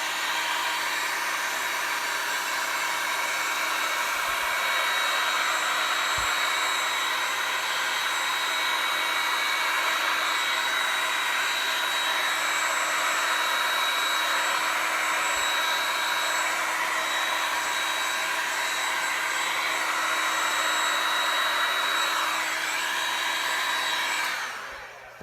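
A heat gun runs on a medium setting, warming resin over an alcohol ink painting, a steady, even whooshing blower hum that continues unbroken for the whole stretch before cutting off at the end.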